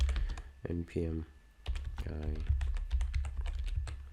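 Quick clicky keystrokes on a computer keyboard while coding, running steadily under a man's speech in the foreground.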